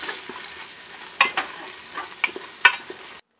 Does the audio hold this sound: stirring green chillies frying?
yes